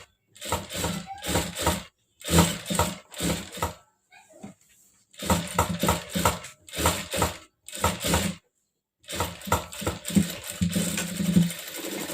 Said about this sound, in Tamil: அப்படியே இதில் ஓரத்தில் வச்சு தையல் போட்டுக்குருவோம் இந்த இது மேலேயே